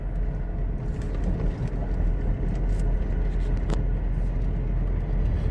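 A steady low road rumble and broadband roar from loud tires on a moving car, heard from inside, fill the clip, with faint rattles and clicks on top, no talking.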